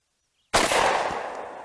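A single sharp shot from a Standard Manufacturing S333 Thunderstruck double-barrel revolver fired one-handed outdoors, a sudden loud crack after silence, with a ringing decay trailing off.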